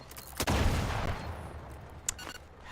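Explosions in The Outer Worlds 2 video game: a sharp blast followed by a long rumbling decay, then a second, smaller crack about two seconds in, with no talking.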